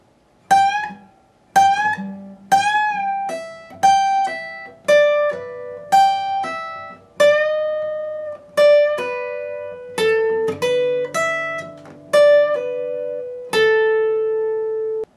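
Electric guitar plays part of a riff slowly, about fifteen separate picked notes ringing one after another at an unhurried, even pace, alone with no talking.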